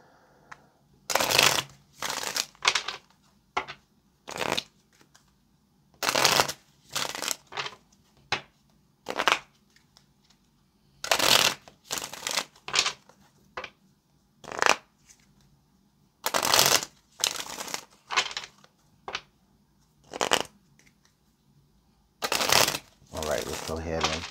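Tarot cards being shuffled in repeated loud, close bursts of riffling and slapping separated by short pauses.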